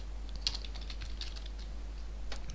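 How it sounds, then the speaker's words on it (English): Typing on a computer keyboard while working in Substance Designer, a few scattered quiet key clicks near the start and a short burst near the end, set over a steady low hum. "I'm just going to press spacebar and I'm going to type in clouds"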